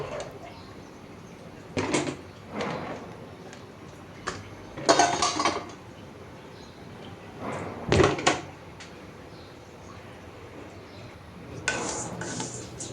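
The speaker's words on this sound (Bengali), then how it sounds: "আর প্লেট বাটিও অনেক নাস্তার পর হয়েছে, এগুলো ধুয়ে নিলাম। ধুয়ে এখন ঝরা দিয়ে নিচ্ছি।" Plates and bowls washed after breakfast and set down to drain, with several loud clattering bursts of crockery and clinks between quieter stretches of running, rustling kitchen noise.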